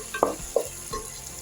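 A spoon stirs masala with garam masala and Kashmiri chilli powder frying in a pan, giving soft scrapes over a faint low sizzle.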